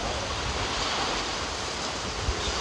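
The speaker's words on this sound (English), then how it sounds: "that wind ain't too bad" Strong wind from Hurricane Nicholas roaring steadily between trailers, a dense unbroken rush buffeting the microphone.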